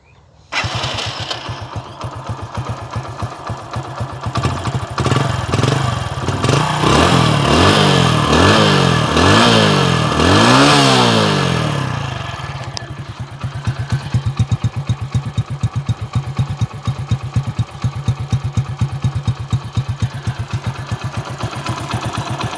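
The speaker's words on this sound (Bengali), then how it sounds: "এবার আপনাদেরকে যদি গাড়ির ইঞ্জিন সাউন্ডটা শোনানোর চেষ্টা করি" A used Hero HF Deluxe motorcycle engine starts and runs, revving up in several rising bursts, then settles into a steady, rhythmic idle that continues to the end.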